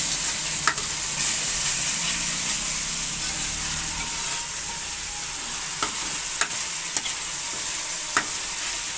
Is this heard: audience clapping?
no